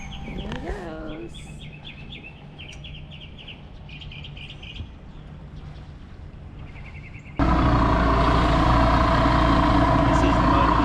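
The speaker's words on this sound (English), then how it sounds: "This is the motor that's sank. You can hear it." A sunken and recovered outboard motor on a freshly painted free sailboat suddenly starts and runs with a loud, steady engine drone, after a stretch of birdsong and faint background sounds.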